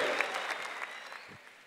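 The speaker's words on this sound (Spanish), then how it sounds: "¡Fuerte aplauso! ¡Fuerte aplauso!" Audience applause at a Colombia vs Puerto Rico rap battle, a steady wash of clapping from a crowd that fades slightly toward the end, with faint voices mixed in.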